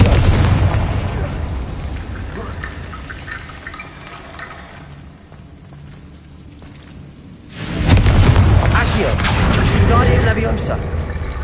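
Confringo fire spell blasts in the Hogwarts Legacy video game, a loud close burst with a sustained roar that fades, followed by a second heavy eruption under game effects.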